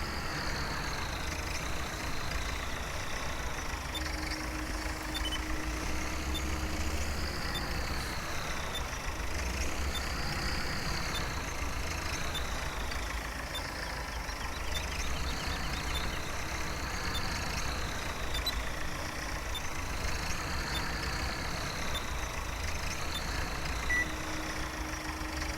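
Farming Simulator 17 video game: a tractor's engine drones steadily for the whole stretch while a reversing alarm beeps in a regular repeating pattern above it, during sugar beet drilling work in a 1960s-era farm setting. Loud and continuous, with no talking.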